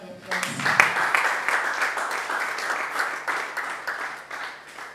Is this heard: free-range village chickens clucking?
no